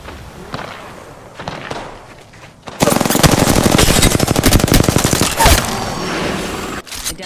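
Rapid automatic gunfire in the Apex Legends battle royale starts abruptly after some scattered shots and thuds, then rattles loud and close in a dense burst for several seconds before cutting off.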